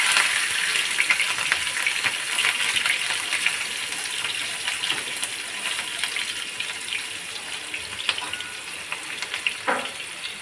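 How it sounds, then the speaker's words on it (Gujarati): Mustard seeds, cumin, asafoetida and green chillies hit hot oil in a pan, giving a loud, continuous close-up sizzle with scattered crackles and pops that runs throughout. "તો જુઓ હવે આપણું તેલ આવી ગયું છે રઈ નાખીશું જીરું નાખીશું હિંગ નાખીશું લીલા મરચાં નાખીશું"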